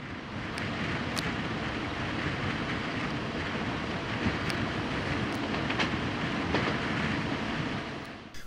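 A train on the CN line east of Toronto, headed toward Oshawa, rolls past with a steady rumbling roar and faint rail clicks. Wind buffets the microphone throughout.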